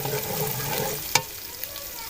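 Garlic fries in a pan for pulao, a soft steady sizzle with a sharp utensil clack partway through, then quieter frying.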